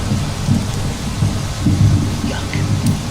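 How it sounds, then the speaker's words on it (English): Steady rain hisses while low thunder rolls in repeated rumbles during a stormy day in Skyrim, the heavy low booms swelling and fading under a constant downpour. "It is quite the rainy day"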